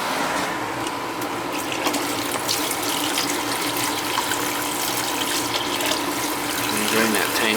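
Water gushes steadily while a gas boiler system's tank drains down, a constant close rushing flow filling the whole stretch with no letup.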